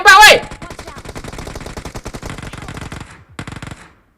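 Rapid automatic gunfire from a PUBG Mobile match rattles in a dense, steady burst of close, loud shots, with a short pause before a few more rounds, after a brief shout at the start.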